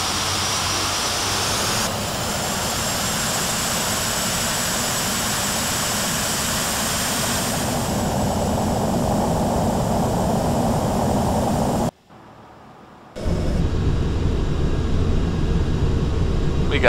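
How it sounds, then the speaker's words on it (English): Simulated jet afterburners roaring at full power as a Blackbird departs Bromma Airport in Flight Simulator X. The roar is loud, steady and continuous, cuts out briefly, then returns just as strongly. "We got maximum effect on the engines"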